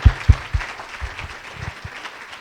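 Scattered applause rises from an audience at a members' gathering, with a few loud, close thumps at the start over a thinner patter of clapping that tapers off.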